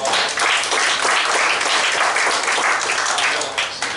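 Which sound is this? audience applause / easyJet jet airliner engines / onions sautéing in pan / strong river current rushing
audience applause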